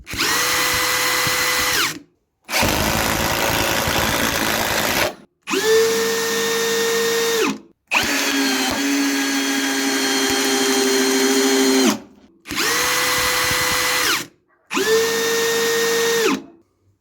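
Parkside Performance cordless impact wrench with a 4 Ah battery and a Parkside Performance compact drill run their motors in turn, a steady loud whine in repeated bursts of a couple of seconds, one longer run in the middle, with no talk.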